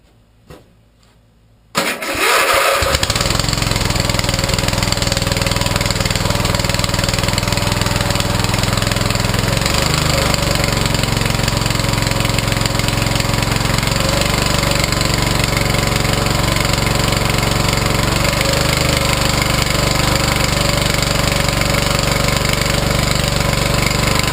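A Murray lawn mower engine fitted with a cold air snorkel cranks after a moment of quiet, then catches and runs loud and steady at an even idle-to-running drone that continues for the rest of the stretch.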